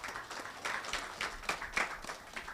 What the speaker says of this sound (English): Makofi tafadhali, this means clap hands for him.